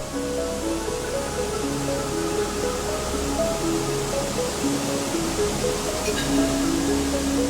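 Seljalandsfoss waterfall in southern Iceland roars with a constant, broad rush of falling glacial meltwater, heard close by and alone with no talk, over a low steady rumble and a faint tonal music bed.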